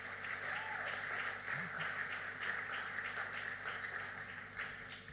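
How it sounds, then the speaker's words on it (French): A church congregation applauds steadily throughout a ceremony elevating a pastor to bishop in Kinshasa, a continuous, even wash of many hands clapping at a distance. "Je vous prie d'acclamer pour le nom de Jésus."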